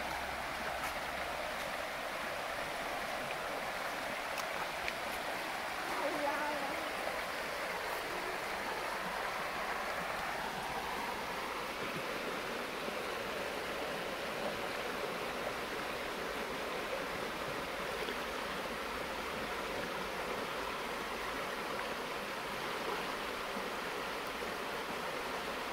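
Icy cold river water flowing steadily at a shrimp-fishing spot, a continuous rushing wash that stays even and close throughout, with no voices.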